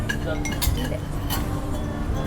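Utensils clink and scrape against a pot as food is stirred, giving light irregular metallic taps under ongoing conversational voices.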